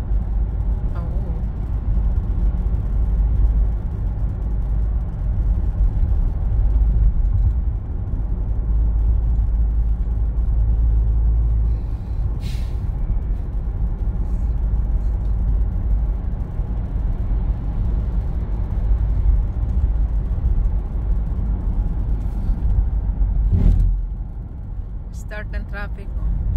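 Road traffic heard from inside a moving car on a drive home from Bahrain airport, a loud steady engine and road rumble with occasional brief hisses, while people talk throughout.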